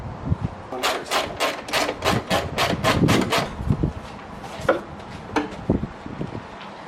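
Metal clatter and rapid sharp taps while an aluminum hood is worked loose from a wrecked Mitsubishi Evo 7, a close burst of quick clicks followed by scattered knocks and handling thuds.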